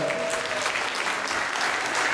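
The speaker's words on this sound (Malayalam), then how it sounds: "കേരള സമാജം ടീമിന് ഒരു നല്ല കൈയടിയുടെ കൊടുക്കാം" Audience applauding a Kerala Samajam skit team at a stage event, steady dense clapping sustained throughout at moderate volume with no voices.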